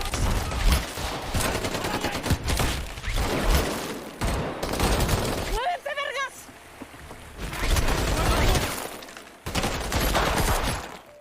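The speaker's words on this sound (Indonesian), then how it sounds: "Setelah baku tembak yang cukup singkat itu, Guerrero" A shootout in an action film about special forces hunting mafia and cartel gangs, with loud bursts of rapid gunfire in several blocks, separated by a brief quieter pause.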